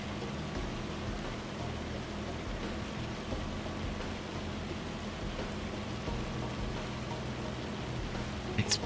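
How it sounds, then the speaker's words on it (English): Hail falls in Farming Simulator 25 as a dense, even patter and hiss that holds steady throughout and stays fairly soft, with a few sharper taps near the end. "It's the sound of the hail."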